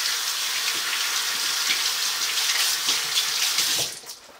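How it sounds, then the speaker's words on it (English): Running tap water splashing over fingertips in a sink as wax is rinsed off, a steady close hiss and gush that holds throughout and cuts off abruptly near the end. "First, I'm just going to rinse off that wax."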